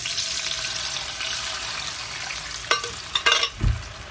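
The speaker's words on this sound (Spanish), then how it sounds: "A nuestro sartén le ponemos un poco de aceite para freír lo que acabamos de moler." Steady sizzling hiss of a ground guaje mixture frying in oil in a pan, loud and close, with a few clatters and a splash near the end.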